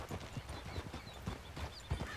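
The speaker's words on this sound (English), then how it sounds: "get on your horse." Faint, rhythmic horse hoofbeats in Red Dead Redemption 2 clip-clop at a steady walking pace, soft and somewhat distant, with no talking.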